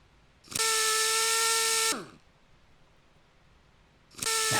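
A power tool in the Heavy Cargo truck simulator video game whirs steadily for about a second and a half while removing screws, winds down, and starts again after a pause. The sound is close and loud, with no talk over it.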